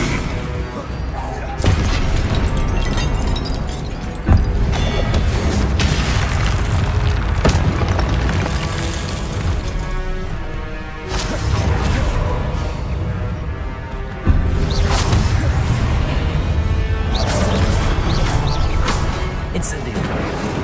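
Fire spell effects from Hogwarts Legacy, a gameplay session, sound as a dense run of booming, crackling magical bursts over roughly twenty seconds, loud and continuous with sharp hits every few seconds, while a player talks over the action.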